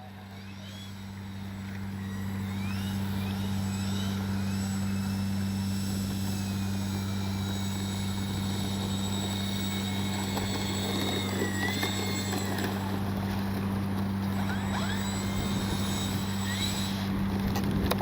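A FlightLine OV-10 Bronco RC plane with twin electric motors whines steadily at a constant pitch, swelling in the first seconds and then holding a sustained drone outdoors on a grassy field.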